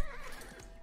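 A horse in the video game Age of Empires 4 gives a brief faint whinny, a short quavering neigh lasting under a second with no talk.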